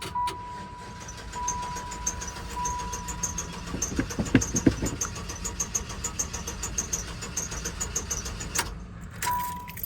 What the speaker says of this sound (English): there's all these idling diesels around me